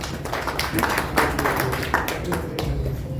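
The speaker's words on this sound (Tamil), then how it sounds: "நம்முடைய கைத்தட்டலை நாம் இன்னும் கொஞ்சம் உற்சாகமாக கொடுக்கலாம்" Attendees at an awards press meet applaud, a moderate patter of hand clapping from a seated crowd, uneven and fairly close, with some voices mixed in.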